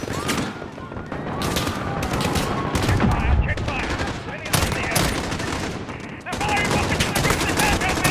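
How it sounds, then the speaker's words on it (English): Gunfire in the Call of Duty Modern Warfare video game: loud, dense volleys of rapid automatic shots and sharp single cracks overlapping continuously throughout. "I don't even know where these shots is coming from right now"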